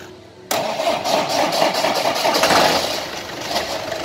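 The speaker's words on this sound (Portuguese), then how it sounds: "dá a impressão que o motor de partida dá uma enroscadinha no momento que pega" A car engine fitted with Bosch injectors and programmable injection cranks and catches after a short lead-in, the starter motor giving a brief scraping grind as it fires. It then settles into a loud, steady idle with no voices.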